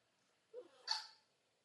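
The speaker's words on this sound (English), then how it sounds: "That's a puppy in the background." A puppy in the background gives a short, faint bark, a quick yip followed by a slightly louder bark, in an otherwise quiet room.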